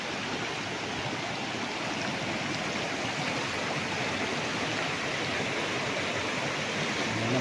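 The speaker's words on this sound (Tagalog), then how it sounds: "Dito na tayo mga kaprap sa ilog" A river in Liliw, Laguna streams over rocks in a continuous, close, full-bodied rush of water, steady and unbroken throughout with no voices.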